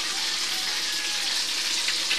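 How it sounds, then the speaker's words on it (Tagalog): Water pours steadily into a cooking pan holding fried tilapia, a continuous close hiss-like gush running without a break. "Lalagyan ng tubig."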